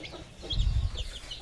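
Small chicks cheep with soft, high peeps over a few low clucks and handling noises at close range, brief and irregular.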